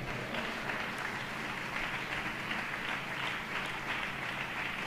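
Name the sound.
congregation applauding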